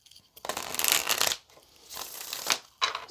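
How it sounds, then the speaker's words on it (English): Tarot cards shuffled by hand in close, crisp bursts of riffling and flapping, three separate rounds with short pauses between them, no talking. "Let's get one more good shuffle"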